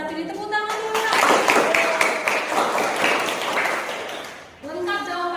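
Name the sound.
classroom applause for a student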